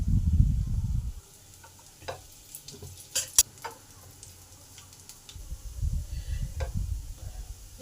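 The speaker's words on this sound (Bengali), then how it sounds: "ধোঁয়াগুলোকে উল্টে পাল্টে লাল লাল করে ভেজে নেব।" Lentil dhoka cakes of chana dal and drumstick are shallow-fried in oil in a pan and turned over. A soft, close sizzle runs beneath scattered clicks and scrapes of turning, with louder bursts of frying at the start and end.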